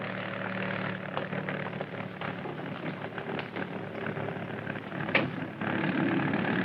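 An airplane engine roars in a steady, dense drone as the plane takes off in a 1970 crime drama. The broad rushing noise stays fairly even and swells slightly toward the end.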